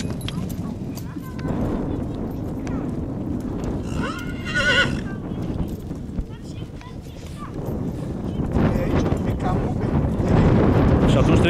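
A horse from a stable in Floresti, Cluj, whinnies with a rising neigh partway through while hooves clop on the ground, with people talking nearby and wind buffeting the microphone.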